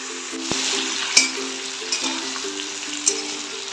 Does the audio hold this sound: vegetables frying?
yes